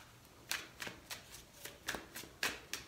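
Tarot cards shuffled by hand during a reading, a quiet series of about ten soft riffling swishes at an even, unhurried pace.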